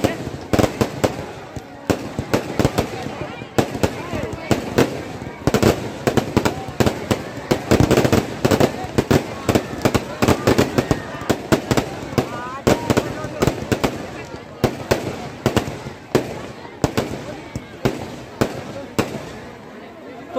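Fireworks crackle and pop in dense, rapid bursts at a Ravan Dahan celebration for Vijayadashami in a crowded village setting, a continuous irregular barrage of loud sharp reports.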